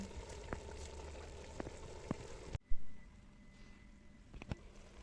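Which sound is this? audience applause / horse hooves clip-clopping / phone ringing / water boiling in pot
water boiling in pot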